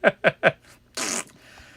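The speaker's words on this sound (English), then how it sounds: "Fart" Three short, punchy fart bursts in quick succession, followed by a longer, breathier blast, all loud and close with no talking.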